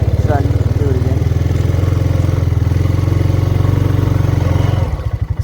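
A Honda ATV engine runs close and loud in a fast, steady chugging idle while one front tire spins without diff lock, then the rhythm loosens briefly near the end.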